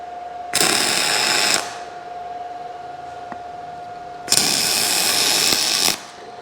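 MIG welding tack welds on 10 gauge steel at about 21 volts, two separate bursts of steady crackling buzz, each lasting about a second, with a faint tone and quiet room between them.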